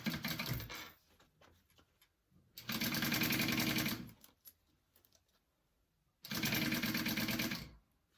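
A sewing machine stitches an eighth-inch seam on a zippered pocket lining, running in three close, loud bursts of rapid, even whirring. Quiet pauses between the bursts carry faint handling of the fabric.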